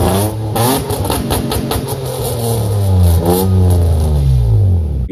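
A car engine with a gutted exhaust revs hard and loud in repeated rising and falling pulls over a raspy drone.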